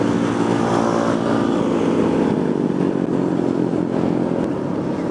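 A motorcycle being ridden on duty through city streets gives a loud, continuous engine drone and wind rumble that holds steady for the whole stretch, with no voices.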